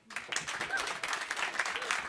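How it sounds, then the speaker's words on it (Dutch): Live show audience applauding a host, a short, moderately loud burst of clapping that swells quickly and stays dense, with a few faint whistles. "Dus nog één keer een heel groot applaus voor haar."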